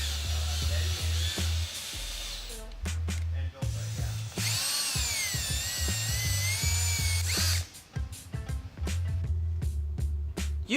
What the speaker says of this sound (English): Set the screw into the opening of the churro, put a little bit of oomph behind the drill